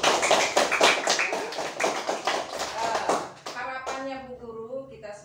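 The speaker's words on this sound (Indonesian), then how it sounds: "tepuk tangan untuk Gama dulu." Schoolchildren in a classroom clap their hands in quick, rhythmic bursts for a few seconds, then the clapping stops and a voice speaks.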